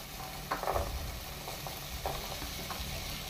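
Oil-fried mixed vegetables are stirred into a sizzling masala for a Goan veg korma, giving a soft, steady frying hiss broken by a few quiet scraping stirs; no one talks.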